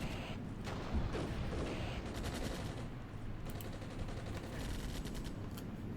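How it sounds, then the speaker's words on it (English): Close gunfire in the Armored Brigade war game, set in the first Battle of Grozny: rapid machine-gun bursts and scattered rifle shots crackle over a steady battle din, dense and continuous, without talking. "Where's that fire coming from? It's damn close."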